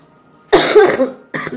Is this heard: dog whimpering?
no